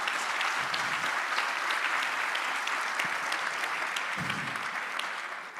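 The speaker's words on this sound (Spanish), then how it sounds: "El aplauso lo dijo todo, Denis." Audience at a health-care panel forum applauding, a dense and even wash of clapping that holds steady for several seconds and fades slightly at the end.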